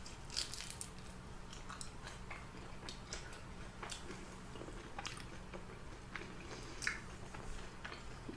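Close, crisp crunches come from bites into crunchy sweet and spicy fried chicken coated in sauce. Several sharp bites are scattered through steady chewing and small wet squishes, with no talking.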